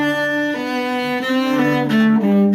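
Solo cello plays a short Suzuki Bourree passage, measures 33 to 36, in clear sustained bowed notes that step through several pitches, swelling slightly in volume toward the end, with no talking.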